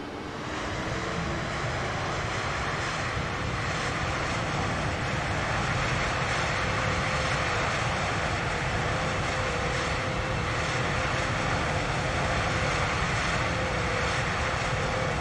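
Steady airplane engine drone during a landing replay in Microsoft Flight Simulator, a continuous even hum with a faint tonal whine, heard alone with no talk.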